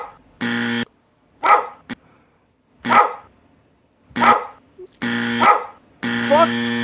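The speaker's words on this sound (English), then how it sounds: "however many dog bark drops you can fit in" A dog-bark sound effect plays repeatedly over a podcast, with sharp barks alternating with longer buzzy tones, loud and close, with voices in between.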